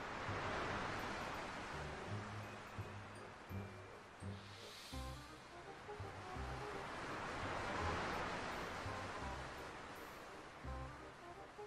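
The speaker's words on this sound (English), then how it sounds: "The waves wash away her sandcastle." Ocean waves washing onto a beach, a soft continuous surf wash rising and falling at a distance, with faint music under it.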